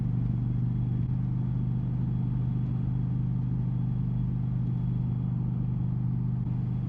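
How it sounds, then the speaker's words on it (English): A 2025 Indian Challenger Limited motorcycle with a Powerplus 112 engine under power on a hilly road, a steady deep exhaust rumble with a constant low throb and no pauses. "I love the sound of the bike when you're under power"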